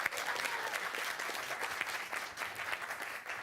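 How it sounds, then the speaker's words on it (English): A crowd at a high school quiz bowl match between Mills and South San Francisco cheers and applauds, a dense, steady wash of clapping and whoops that carries through the whole moment. "let's give a cheer for the South City Warriors"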